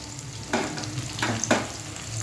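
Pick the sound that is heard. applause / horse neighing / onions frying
onions frying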